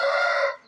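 A rooster crows in a chicken coop in Ayvalık, one loud, sustained cock-a-doodle-doo call close by that fades at the end, with no talk.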